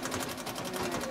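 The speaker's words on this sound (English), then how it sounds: "this is a tight zigzag, and I can actually sew pretty quick" Treadle sewing machine stitching a tight zigzag at quick speed, a fast, even mechanical clatter of needle strokes repeating rapidly, quiet and close.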